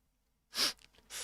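One close, sharp sneeze bursts out during a live talk show, followed by a short breathy exhale.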